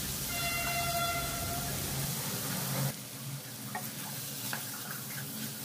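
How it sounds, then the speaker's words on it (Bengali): Chicken sautéing in spice paste for Bengali chicken kasha, a steady close sizzle with stirring. The sizzle softens partway through, leaving lighter frying with occasional scrapes. "চিকেনটা আমি খুব ভালো করে কষিয়ে নেব।"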